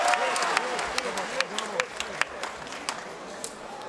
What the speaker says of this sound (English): a big and big applause for Tayfun Ozcan, Mohammed Jaraya.